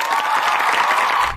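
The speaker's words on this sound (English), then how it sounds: "Mordecai and Rigby sitting in the audience clapping and looking around with other cartoons" A cartoon audience claps at an awards show: dense, continuous applause from a crowd, loud and even for a brief stretch.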